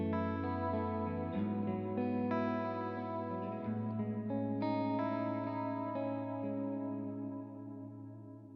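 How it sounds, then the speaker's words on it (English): A clean electric guitar through a Neural DSP Quad Cortex rings out in sustained chords and single notes with reverb, strong and close, the tail fading gradually at the end. "That's pretty much the clean sound that I would be using with my pedal board."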